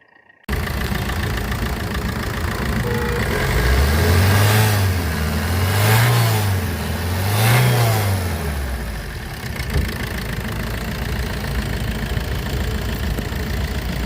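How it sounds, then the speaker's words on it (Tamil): A Maruti Suzuki Ertiga diesel engine idles steadily nearby, with a few slow rising-and-falling revs partway through before settling back to a constant hum. "அப்படியே என்ஜினோட நாய்ஸ் கேளுங்க"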